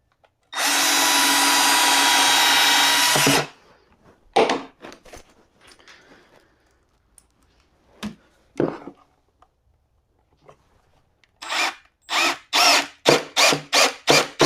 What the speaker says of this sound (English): I am going to drill a couple pilot holes to get me started